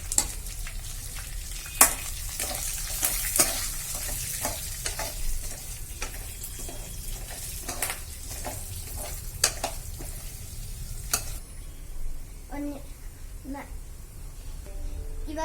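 Chickpeas roast in a pan, stirred repeatedly with a spoon that scrapes and clinks in uneven strokes over a constant sizzling hiss, close and fairly loud.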